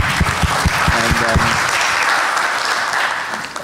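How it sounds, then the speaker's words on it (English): An audience at a Middle East internet peering conference applauds a panel, with loud, dense clapping that starts with a few distinct claps and a voice over it, then holds as a continuous roar before easing slightly. "Big applause for all of you."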